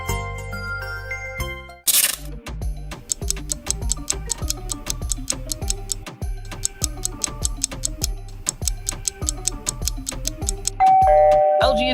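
LG smartphone ringtone, a bright, chiming electronic melody of quick, evenly spaced plucked notes over a steady beat, loud and close, ending on a brief held tone.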